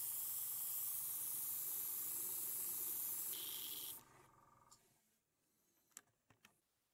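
Steady close airbrush hiss spraying diluted ICM black paint to pre-shade a 1/72 OV-10 Bronco model, running loud and continuous for about four seconds, then cutting off to near silence with a few faint small knocks.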